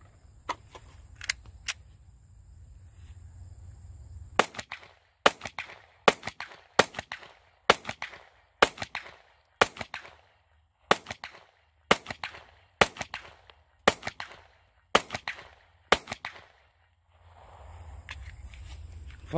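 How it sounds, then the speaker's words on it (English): A Taurus GX4XL 9mm pistol fires at an outdoor range: a few quick shots, a pause, then a long, evenly spaced string of sharp, loud reports about every half second, with no one talking. "Shot a variety of ammo and was quite a pleasure to shoot."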